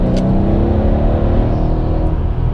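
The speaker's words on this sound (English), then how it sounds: "it will also downshift a little bit faster if you need to pass somebody on the highway," Mercedes-Benz W212 E63 AMG sedan downshifting and accelerating hard to pass on a highway: a loud, steady engine roar that holds strong throughout, with no talking.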